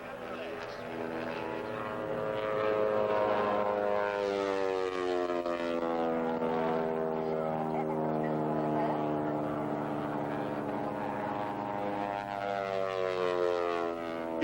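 An aerobatic plane at an airshow drones overhead, its propeller engine pitch rising and falling as it maneuvers, while an announcer talks over the public address throughout.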